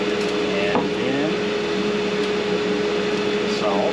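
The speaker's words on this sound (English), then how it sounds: "Okay, here comes the vacuum." A shop vacuum runs in a woodshop, giving a loud, steady, unbroken drone with a constant hum that holds throughout.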